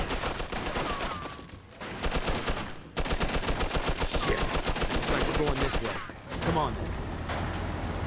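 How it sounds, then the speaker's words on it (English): A gunfight in Mafia II, set during the intro as Vito comes home: loud, rapid bursts of automatic weapon fire in dense repeating volleys with short breaks, while voices talk over the shooting. "Just keep shooting!"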